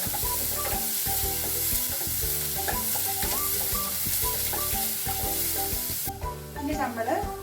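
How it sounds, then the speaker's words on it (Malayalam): Chopped onion stirred and frying in a pan: a steady, close sizzle with scraping stir strokes, playing under background music with no talk. "ശേഷം സവാള ഇട്ട് കൊടുക്കാം. നന്നായിട്ട് ഇളക്കി കൊടുക്കുക."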